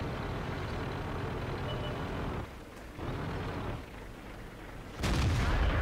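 Tank cannon fire from a Centurion 7/1 during a World of Tanks battle: a sudden loud broadband blast near the end, after several seconds of steady engine and battle rumble.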